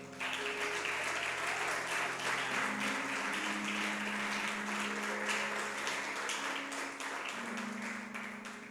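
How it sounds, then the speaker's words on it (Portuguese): A church congregation applauds during a sermon, sustained crowd clapping for nearly nine seconds with faint steady tones underneath, the clapping fading slightly at the end. "Pode dar uma salva de palmas para ele?"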